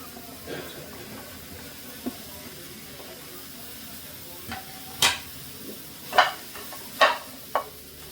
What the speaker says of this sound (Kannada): ಹಾಗಲಕಾಯಿನ ಸಣ್ಣದಾಗಿ ಹಚ್ಕೊಂಡು ಇದನ್ನು ಡ್ರೈ ರೋಸ್ಟ್ ಮಾಡ್ಕೊಳ್ಳೋಣ